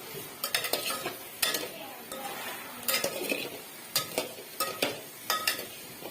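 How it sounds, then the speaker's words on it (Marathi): Onions with a pinch of salt roast in a pan over full gas, a low sizzle under repeated scraping and clinking stirs of a spoon against the pan, near and fairly quiet. "आता थोडस मीठ घालून घ्यायचं, म्हणजे कांदा चांगला भाजून येतो।"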